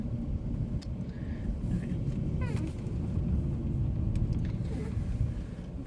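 Car rolling slowly into a parking spot, a steady low engine and road rumble running throughout, with a brief spoken word over it.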